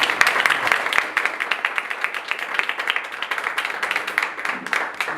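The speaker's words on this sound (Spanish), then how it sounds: "Un aplauso al Señor." A church congregation claps steadily for several seconds, a dense, sustained round of applause with no talking over it.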